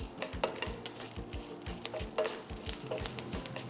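Dried red chillies and a few curry leaves frying lightly in oil for a fenugreek kuzhambu, a soft sizzle with a steady rhythm of utensil taps and scrapes against the pan.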